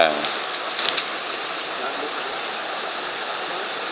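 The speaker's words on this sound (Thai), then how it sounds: "บริเวณนี้เป็นบริเวณลำธารในป่า" Water rushes steadily over rocks in a forest stream, a constant broadband hiss with a few brief brighter splashes near the start, close and continuous.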